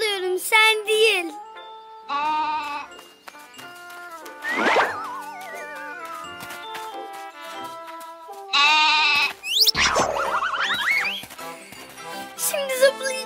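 A cartoon goat in a Turkish animated series bleats in several short, bright cries among springy sound effects and jingles, with characters speaking in between.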